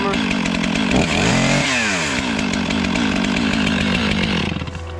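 Big Stihl chainsaw roaring continuously while clearing land for a new house, loud and close, with the engine pitch shifting as the chain bites into wood and easing off near the end.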